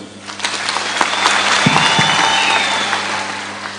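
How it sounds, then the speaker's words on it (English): A large crowd at a Catholic bishop's gathering applauds a delegation from the Archdiocese of Nairobi, a dense steady wash of clapping that swells and holds, loud and close, with no talking over it. "Kindly clap for them."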